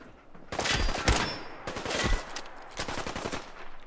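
Rapid automatic gunfire in Fallout 4 rattles out in several close, loud bursts of fast shots, with short gaps between volleys.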